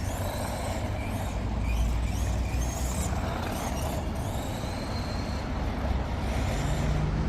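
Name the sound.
HPI Blackzon Slyder MT RC truck driving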